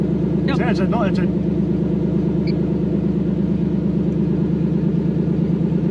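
A Toyota 1UZ V8 idles steadily in a KZN130 Surf whose TPS and idle switch need adjusting, giving a constant low, even hum that runs throughout, with a voice speaking briefly near the start.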